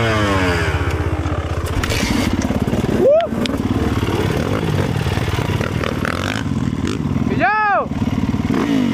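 A motorcycle engine runs loudly and continuously nearby with a rough, pulsing idle, and voices talk over it.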